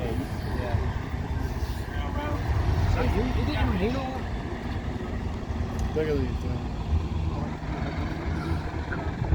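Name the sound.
coach driving onto tyre pad at coach rally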